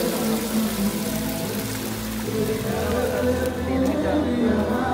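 A small waterfall rushes and splashes steadily outdoors in the Himalayan hills near Kasol, a continuous dense wash of water with no breaks over the whole stretch.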